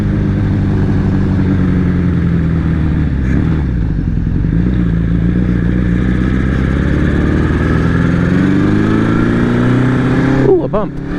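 Honda CB750 DOHC motorcycle with dual carburetors ridden along a road, a steady loud engine drone with shifting pitch and a brief rev change near the end, heard from the rider's position amid wind noise.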